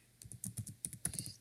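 Keys clatter on a computer keyboard as text is typed into an Excel spreadsheet, a quick irregular run of close, crisp taps ending in a sharper final stroke.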